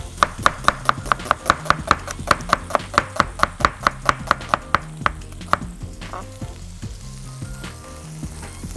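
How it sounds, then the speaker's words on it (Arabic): A knife slices an onion into thin strips on a board in quick, even, crisp chops close to the listener, with a faint sizzle underneath. The chopping slows and thins out toward the end. No speech. "بصل الأول، أهو عايز آخده كده شرايح رفيعة."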